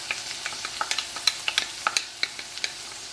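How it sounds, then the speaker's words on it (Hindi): Crushed tomatoes and pasta sauce go into frying keema, heard as a low sizzle with a quick series of sharp, close utensil clicks and scrapes as it is stirred. "अब इसमें हम अपनी ये हमारे क्रश्ड टोमेटोज डाल देंगे, पास्ता सॉस डाल देंगे"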